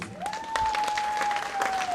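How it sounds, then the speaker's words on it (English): An audience at a women's summit breaks into continuous applause, a dense wash of clapping that holds steady for the whole stretch, with a faint tone running underneath. "Can we give another big round of applause to all the women in this audience?"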